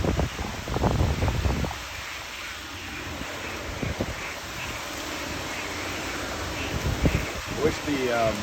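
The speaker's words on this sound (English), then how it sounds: "I want to see if I can get to hear the wind because it is cutting." Wind gusts from Hurricane Milton rush past at night in Central Florida, a continuous moderate roar with rustling leaves and a few louder buffets against the microphone, while a person talks at the start and near the end.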